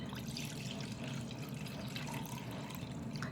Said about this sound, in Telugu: దీన్ని ఇప్పుడు ఈ వాటర్ అంతా ఒక ప్యాన్లోకి షిఫ్ట్ చేసుకోవాలి